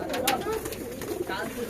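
Pigeons coo softly in a crowded loft, low murmuring calls overlapping in a steady chorus, with a person's voice speaking briefly nearby.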